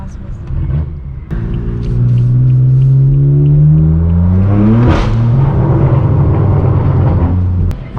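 A straight-piped BMW M4 F82 with loud exhaust revs hard nearby, its engine note climbing steeply, cracking at the top, then settling into a heavy rumbling drone.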